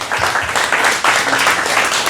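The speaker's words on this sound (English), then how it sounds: "Let's give him another big round of applause." An audience at a real estate investor meetup applauds, a dense, steady round of clapping heard close and fairly loud throughout.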